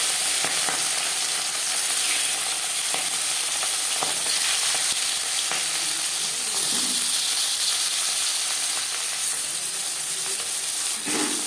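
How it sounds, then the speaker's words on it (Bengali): Marinated fish sizzles in hot refined oil, a steady loud frying hiss with crackling spatters throughout, no voices. "চার চামচ রিফাইন্ড অয়েল গরম করে নিয়েছি এবার দিয়ে দেব ম্যারিনেট করে রাখা মাছ"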